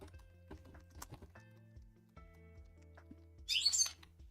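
A bird chirps in a short, high, fluttering burst near the end. It is preceded by quiet low hums, faint clicks and knocks, with no voices.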